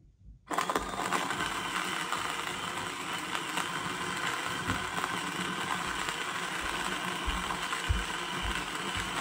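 A steady, dense grinding rattle with a ratchet-like texture from an Outin Fino portable coffee grinder starts abruptly and runs continuously at moderate level without pause.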